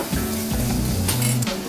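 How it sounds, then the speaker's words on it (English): Potatoes and salad ingredients sautéing in a restaurant kitchen pan, giving a steady close sizzle with a brief metallic clink of utensils near the end. "So that's going to saute off for a bit"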